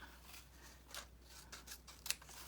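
Scissors handled during journal crafting, a few faint quick metallic snips and clicks scattered over a quiet room background, the sharpest one near the end.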